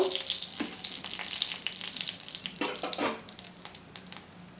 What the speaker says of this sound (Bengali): ফোড়নটাকে একটু ভেজে নেব।